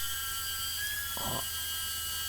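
A router fitted with a long Arden router bit on a half-inch collet cuts wood for a guitar neck, a thin high-pitched whine held throughout with one brief, louder rough burst midway.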